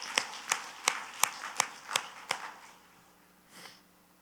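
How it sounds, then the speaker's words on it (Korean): A church congregation claps in unison during a sermon: about seven evenly spaced claps in a steady rhythm, then a softer, fainter clap after a pause. "믿는 사람 하나님께 박수를 영광 그리고 할렐루야."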